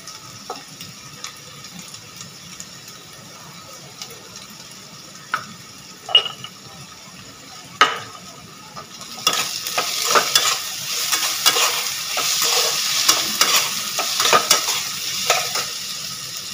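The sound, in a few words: potatoes frying in a pan, salt added, for jhal suji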